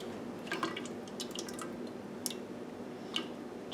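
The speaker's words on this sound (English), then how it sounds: "So you're pouring the lye into the oils." Lye solution poured into oils for making soap, soft liquid drips and squishy trickles close by, with a few brighter clinks and no talk.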